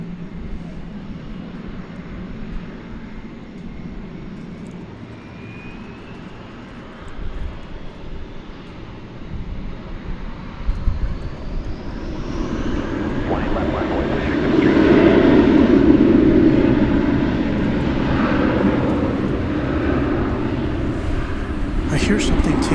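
A jet airliner takes off at DFW Airport at night, its engine roar building from a distant rumble to a loud, broad swell and then holding steady, with a person talking over it.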